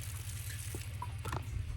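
Rainwater flows from the spigot of a homemade rain catchment barrel in a steady, close gush and trickle, with a low rumble underneath and no talking.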